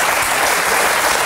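Studio audience applauding at a French television talk show, a dense, steady wash of clapping that fills the whole moment at close, loud level with no voices on top.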